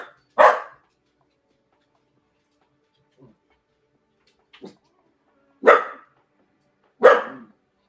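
A dog barks sharply in an otherwise quiet room: one loud bark, a few soft yips, then two more loud barks spaced about a second and a half apart.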